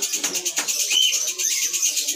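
A played-back swiftlet lure call repeats in quick, regular chirping pulses, fairly loud and close.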